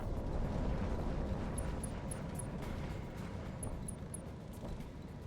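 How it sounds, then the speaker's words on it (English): A forest burns in a video game, a steady, dense roar with rumbling crackle and a few faint high clicks, fairly quiet and without speech. "Lighting fucking the forest on fire again."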